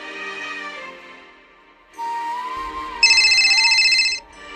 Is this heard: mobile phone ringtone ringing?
yes